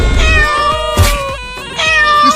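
A kitten meows loudly and close up, several drawn-out, wavering cries in quick succession with almost no background noise.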